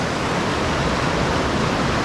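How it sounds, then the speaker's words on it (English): River rapids at Ohiopyle rush in a loud, dense, unbroken roar of churning water, close by and steady throughout, with no voices. "this must be some sort of falls, one of the rapids"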